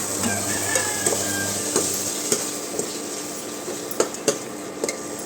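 Brinjal masala curry sizzles in a pan while a spoon stirs it, with a steady frying hiss broken by several sharp metallic scrapes and taps against the pan.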